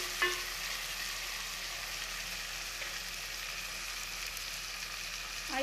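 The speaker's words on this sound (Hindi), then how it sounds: "तो अब मैं इसमें जो है 3 अदद टमाटर जो है वो मैं शामिल कर दूँगी और इनको अच्छे से मिक्स कर दूँगी" Three tomatoes are stirred into golden-brown onion and garlic masala for a potato curry, sizzling with a steady hiss of hot oil, a clatter of the spoon at the start and again at the end.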